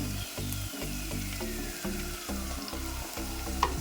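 Fish curry base with softened aromatics and freshly added chili powder frying in a pan over low heat, a steady close sizzle broken by rhythmic stirring scrapes, with no voices.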